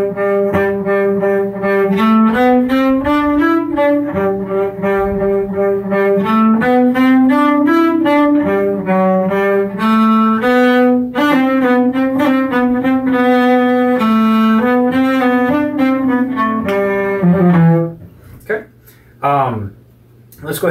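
A solo cello plays a passage from Bréval's Sonata in C, clear bowed notes with rich harmonics in a steady, close phrase, ending in a slowing retard with a few final separated notes.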